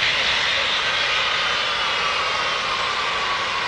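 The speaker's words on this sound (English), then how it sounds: "Notice the aircraft demonstrated its capability to back up under its own power." A military transport aircraft backs up under its own power, its engines giving a loud, steady, close roar with no break.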